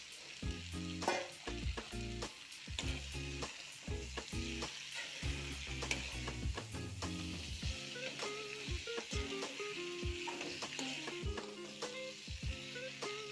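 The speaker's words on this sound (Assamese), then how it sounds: "এতিয়া ইয়াত মই মাংসখিনি যিখিনি মেৰিনেট কৰি থৈছিলোঁ সেইখিনি ইয়াতে দি দিছোঁ।" Marinated duck meat fries in a hot pan with a steady, dense sizzle, broken by frequent sharp clinks and scrapes of stirring throughout.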